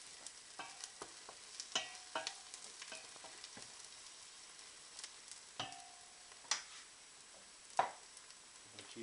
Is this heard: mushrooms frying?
yes